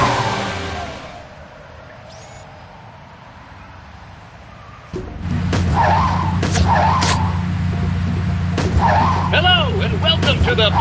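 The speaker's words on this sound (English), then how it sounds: "Initiating augmented reality driving sequence." A car races through an augmented-reality driving sequence in a Sam & Max game, starting quiet before a loud engine drone kicks in with repeated tire skids and squeals while voices chatter over it.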